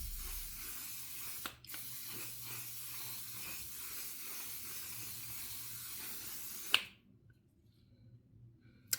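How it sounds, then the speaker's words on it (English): A steady hiss of a fine mist spray runs for several seconds, broken by a few sharp clicks, then stops abruptly into near silence. "And I'm just gonna spray my face."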